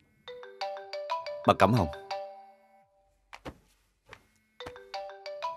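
A phone ringtone plays a bright repeating chime melody in two bursts with a pause between, loud and close, while a person speaks briefly over the first burst.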